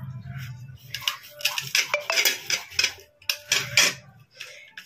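A kitchen knife scores slits into both sides of a small fish on a cutting surface, giving a run of short scraping and tapping cuts with clinks at an irregular rhythm. The sounds are close and moderately loud, with no voice over them.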